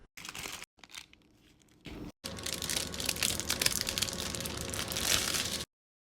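Condensed milk, strawberry jam and strawberry powder stirred together into a thick mixture, giving sticky, squelching scrapes, close and continuous after a few short bursts and pauses.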